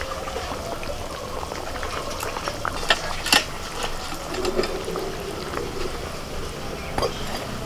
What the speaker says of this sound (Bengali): এবার আমি জাস্ট 2 মিনিট মতো একটু ফুটিয়ে নেব